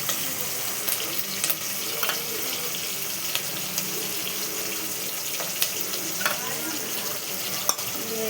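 Dal (a lentil pappu charu) frying in a pan on the stove, a steady broadband hiss and crackle with occasional clinks of a spoon, fairly close and continuous for several seconds with no talking.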